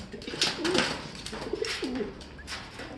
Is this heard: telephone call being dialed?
no